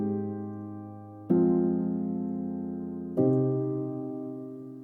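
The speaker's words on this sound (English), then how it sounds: "I'm using the Spitfire Labs piano, which sounds like this." Spitfire Labs software piano playing a slow chord progression: two soft, sustained chords, each struck and left to ring and fade, close and alone.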